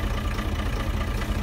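A Case / David Brown tractor engine runs at a steady, loud, close, low rumble that stays constant throughout with no talking.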